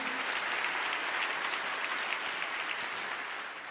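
Congregation clapping during a church sermon, a steady wash of applause from a crowd, fairly distant and even, easing slightly toward the end.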